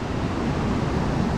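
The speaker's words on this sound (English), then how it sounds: "probably at the first fall of Morialta waterfall" Morialta waterfall's first fall in Morialta Conservation Park, Adelaide, a large cascade giving off a steady, dense roar of rushing water that holds even and loud throughout, with no voices.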